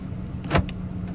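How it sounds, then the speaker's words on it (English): A Honda City's doors lock with a single short electric clunk, close and fairly quiet over a low steady hum inside the car. "I'm gonna lock the car"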